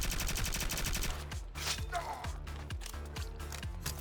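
Rapid automatic SMG fire in the indie shooter Cybercorp, a steady rattling stream of shots over game music with a pulsing beat, dense and continuous throughout.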